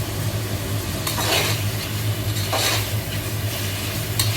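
Chicken stirred with salt in a pot for biryani, a steady near sizzle with scraping stirs recurring every second or so, no voices.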